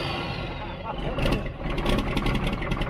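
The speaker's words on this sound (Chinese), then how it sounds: "这辆老卡车不光能够连电打火，发动机也能顺利运转，虽然轰隆隆的噪音属实是有些刺耳" An old Volvo truck, parked for 13 years, runs after being restarted; its engine gives a loud, rough, steady roar and rumble that stays close throughout.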